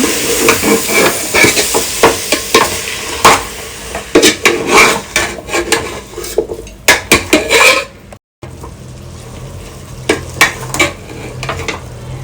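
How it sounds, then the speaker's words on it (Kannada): Marinated jackfruit goes into a pan for jackfruit biryani, giving a close, loud run of metal utensil scrapes and clatters against the pan over steady frying sizzle, with a brief dropout before the stirring resumes more quietly. "now we'll add this marinated jack."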